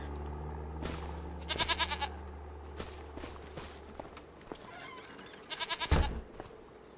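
Several short goat bleats in quick bursts from the video game Farming Simulator 25, over a low steady hum, with scattered small clicks and thumps.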